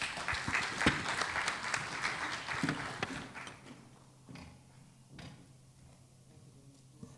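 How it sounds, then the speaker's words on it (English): An audience at a global CEO forum in Sri Lanka claps loudly for a few seconds, then the applause thins into scattered claps and fades to a quiet hall with a low hum. "give them another round of applause"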